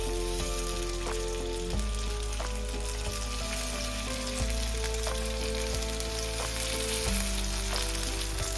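Marinated paneer sizzling in hot oil on a tawa, a loud dense crackle that holds steady throughout, with a few soft bumps and a steady low hum underneath.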